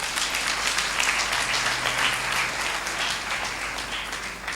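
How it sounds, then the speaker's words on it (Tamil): A church congregation applauds for two young children standing before them, steady sustained clapping filling the room for several seconds. "கைத்தட்டலாமா அவங்களுக்கு?"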